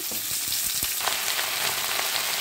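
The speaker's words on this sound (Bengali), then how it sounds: "এবার আমি টমেটোগুলো দিয়ে দিচ্ছি। টমেটোগুলো দেওয়ার পর সবজিগুলো দিচ্ছি।" Tomatoes and mixed vegetables hit a little hot oil in a pan and fry with a steady, dense sizzle, with a few sharp clacks from stirring early on, close and continuous with no voices.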